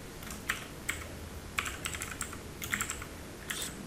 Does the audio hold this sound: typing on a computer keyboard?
yes